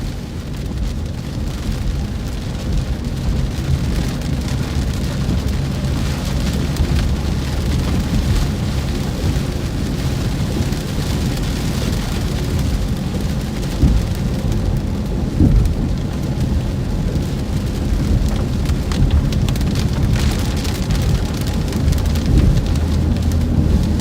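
A thunderstorm during a tornado-warning storm chase pours heavy, steady rain with distant rumbles of thunder, loud and continuous throughout with no talking.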